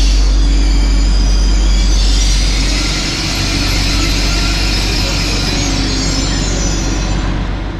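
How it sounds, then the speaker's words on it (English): An SNCF X76500 regional train (French AGC) pulls into a station, a loud continuous rumble of wheels and engine with a high squealing hiss across the whole span, fading slightly midway. "now we can take a look at the arrival of my train."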